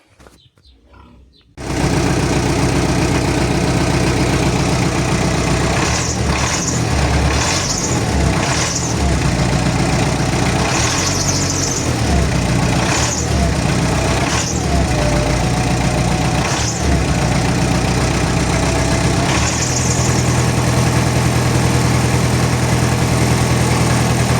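An MTZ-82.1 tractor diesel engine runs loudly and steadily after a fuel pump repair, close by, with a whistling tone over the idle and intermittent higher-pitched squeals, starting abruptly after a brief quiet.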